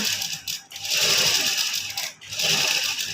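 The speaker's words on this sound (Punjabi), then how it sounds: "ਇਹ ਛੋਟਾ ਟਾਂਕਾ ਕਰਕੇ ਲਾਣੀ ਹੈ ਜੀ ਨਹੀਂ ਫਿਰ ਬਾਅਦ ਚ ਉੱਧੜ ਜਾਂਦੀ ਹੈ" A sewing machine stitches a folded hem with small stitches, running in fast, steady bursts broken by two short pauses, close and loud with no talking.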